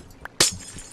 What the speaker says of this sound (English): You want to take out that top layer of glass?